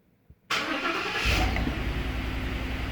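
A 2021 Ford F250 truck engine cranks and catches abruptly after a short click, then settles into a loud, steady close idle with no talk.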